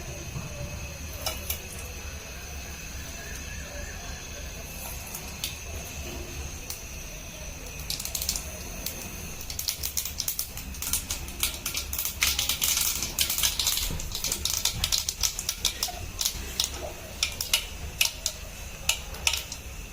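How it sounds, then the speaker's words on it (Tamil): Mustard seeds splutter in a little hot oil in a pan for noodles, starting sparse and building into rapid crackling pops with occasional utensil clatter and no speech. "கடுகு நல்லா பொரியட்டும்"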